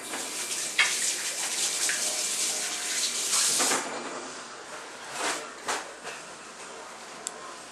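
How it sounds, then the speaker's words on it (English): Running tap water in a home kitchen splashes over sticky hands being washed between cooking steps, a steady close hiss with a few louder splashes and surges and no talking. "Just wash your hands again. It's sticky."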